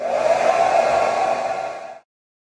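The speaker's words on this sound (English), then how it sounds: "I'm going to quickly blow dry my hair now so you can see." A hair dryer fitted with a DivaCurl diffuser blows loudly and steadily at close range, a constant whirring rush that cuts off abruptly after about two seconds.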